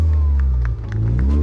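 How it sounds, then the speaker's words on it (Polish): Crowd at a night car racing meet in Tuszyn breaks into scattered applause and cheering, moderately loud, over a steady rumbling engine-like drone. "Ale brawa są."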